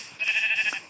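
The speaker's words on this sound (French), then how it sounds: "On va d'ailleurs tuer ce mouton" A single short, quavering sheep bleat from Minecraft survival mode, close and clear, with no talking over it.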